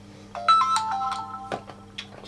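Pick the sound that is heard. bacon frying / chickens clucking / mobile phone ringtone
mobile phone ringtone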